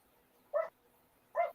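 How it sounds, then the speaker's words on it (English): Dogs bark outside during a live book discussion: two short, separate barks about a second apart, faint and distant, with no talk over them. "Are your dogs barking?"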